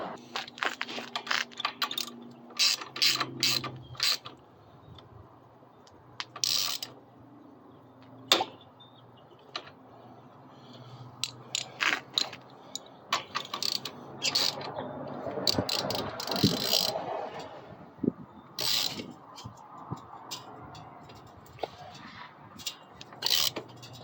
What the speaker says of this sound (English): Now this brake bracket will come off and we can tighten up the shock mounts.